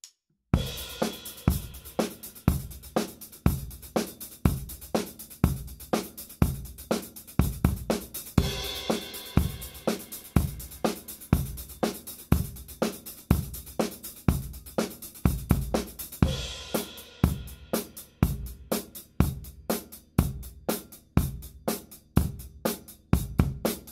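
A drum kit plays a steady rock chorus groove: kick and snare backbeat under busy sixteenth-note hi-hats, with crash accents at section changes, loud and close.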